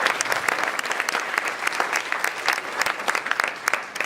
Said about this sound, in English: if we could just give them all a round of applause for what they're about to do tonight.